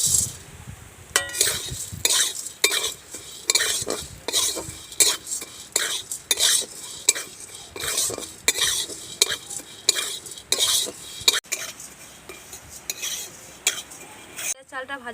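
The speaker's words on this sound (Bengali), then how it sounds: "এবার আমি ময়দার চালটা ভাজার জন্য অল্প করে ঘি দিয়ে দিচ্ছি" Homemade flour rice grains fry in a little ghee as a spoon scrapes and clinks against the pan in a steady rhythm over a soft sizzle, the stirring continuing for the full stretch.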